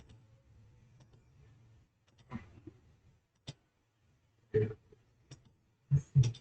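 Sharp, isolated computer mouse clicks while using GIMP 2.10.36 image-editing software, a handful of close, crisp taps spaced irregularly over a quiet background with faint low hum.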